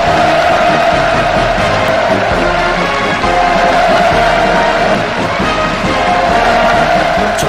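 A massive assembled crowd roars in sustained, enthusiastic cheering, a dense unbroken wall of voices that stays loud and even throughout.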